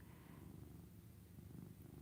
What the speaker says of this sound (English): Is the mic like picking up the purring and stuff?